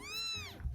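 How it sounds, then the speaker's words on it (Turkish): A single high, drawn-out cat meow rises and then falls away, clear and fairly close, with no talking. "Ne bu kedi sesi ya? Burada mı?"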